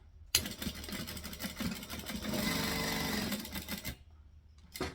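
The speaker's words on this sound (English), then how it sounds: "Rethread the needle, pull it back, stitch it down." Sewing machine stitching fabric in a loud, steady burst of rapid mechanical chatter that starts abruptly, runs about three and a half seconds, stops, then restarts briefly at the end.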